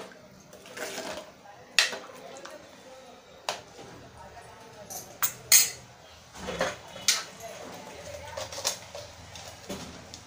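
A metal spoon clinks and scrapes against a pot in irregular bursts, fairly quiet and close, with pauses between strokes.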